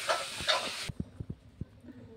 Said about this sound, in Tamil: சால்னாவை சேர்த்து இந்த மாதிரி கிண்டி வச்சுக்கலாம்.